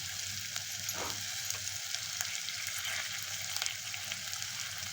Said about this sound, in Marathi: उभा चिरलेला टोमॅटो टाकून घ्यायचा आहे.